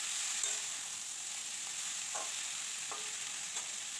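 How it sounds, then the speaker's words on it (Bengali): A metal spatula stirs cabbage and potatoes frying with onion and green chilli, giving a steady sizzle broken by a few soft scraping strokes, close up and with no voices. "একটু নাড়াচাড়া করে নেব খুন্তি দিয়ে।"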